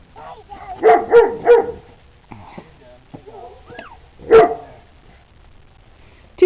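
Puppies, a little black male among them, give several sharp yips and barks in quick bursts, then a single loud bark later, with whimpers and soft sounds between and a person talking nearby.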